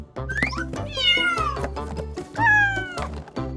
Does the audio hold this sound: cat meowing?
yes